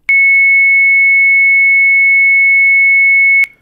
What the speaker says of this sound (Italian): la frequenza di oscillazione di quest'onda è aumentata, non è più di 44 Hz, non è più di 220 Hz, ma è di ben 2200 Hz